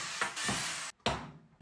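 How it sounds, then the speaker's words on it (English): A power drill whirs in two short, loud bursts through PVC pipe, with a brief silent gap between them. "Alright, let's go ahead and start drilling."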